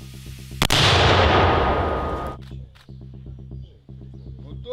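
A single loud mortar shot booms nearby during fighting in Kharkiv region, its blast rumbling and fading over a couple of seconds, with a steady engine hum around it.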